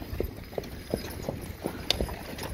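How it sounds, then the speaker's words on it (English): Horses driven at a sale, hooves clip-clopping in a steady, evenly spaced rhythm of distinct nearby strikes over low background murmur. "There's a buyer driving the horses."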